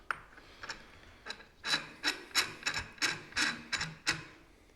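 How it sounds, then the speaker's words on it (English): A hand bead breaker forces a tractor tire bead off the rim on a John Deere Model 60, giving a series of rhythmic rasping, ratcheting strokes that grow louder and more regular as it goes. "We're gonna try out this bead breaker, courtesy of Jacob. See if it works here to push that back."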